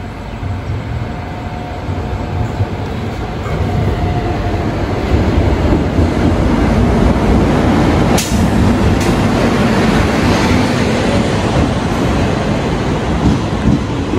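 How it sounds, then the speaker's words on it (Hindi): Ahmedabad Howrah Express hauled by a WAP-7 electric locomotive rolls into the station, a loud continuous rumble of wheels and carriages with a brief sharp clank partway through. "आ चुकी है हमारी अहमदाबाद हावड़ा एक्सप्रेस, जिसमें WAP-7 लोकोमोटिव लगा हुआ है"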